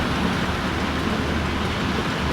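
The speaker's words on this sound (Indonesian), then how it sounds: "Hujan ini." Steady heavy rain pours down during a drive on a toll road near Purwakarta, a dense, even hiss with a low road rumble underneath, constant and unbroken with no talking.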